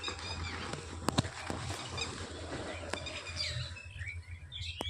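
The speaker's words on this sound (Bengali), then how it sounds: "আর পাখিগুলোর কত সুন্দর আওয়াজ" Birds, including pigeons, calling outdoors with scattered chirps and tweets at a moderate distance over a low steady background hum, with several sharp brief clicks mixed in.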